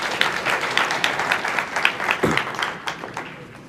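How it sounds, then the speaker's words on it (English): An audience at a community hospital fundraising event applauds a speaker. The clapping is moderate and steady, comes from a medium-sized crowd and fades slightly toward the end. "Another round of applause for Fazl Beg."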